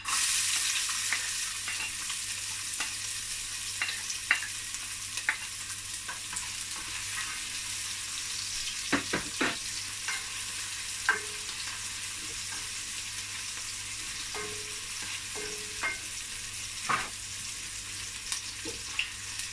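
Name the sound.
onions frying in a pan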